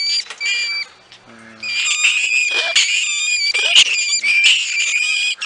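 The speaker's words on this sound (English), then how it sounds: "They're screaming in anger" Norway rats screaming in anger, shrill piercing squeals in long overlapping bursts with a short lull, very loud and close, a human voice murmuring briefly in the gap.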